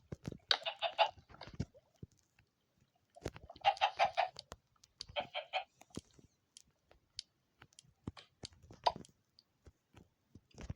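Short bursts of electronic-sounding Minecraft chicken clucks come in three clusters, separated by quiet stretches with scattered sharp clicks.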